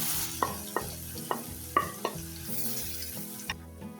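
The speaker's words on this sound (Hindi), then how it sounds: "हींग डालेंगे, हींग डालने के बाद ज़ीरा डाल देंगे और ज़ीरा डालने के बाद यहाँ पे हमने लिए चॉप की हुई प्याज" Chopped onion fries in mustard oil with cumin and asafoetida, a steady close sizzle broken by several sharp spoon scrapes and taps against the pan during stirring.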